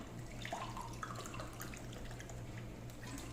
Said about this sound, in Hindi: इसमें हमें 3 कप ऑफ वाटर ऐड करना है।